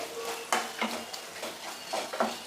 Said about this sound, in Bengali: খুব ভালো করে মিশিয়ে দিলাম